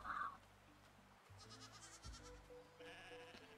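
In the farming video game Roots of Pacha, a goat gives one short bleat at the start. Soft, tonal game music and ambience follow.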